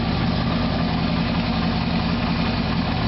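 A 1977 Kawasaki KZ1000 A1 motorcycle engine idling, a steady, close, even rumble that holds constant throughout without any speech.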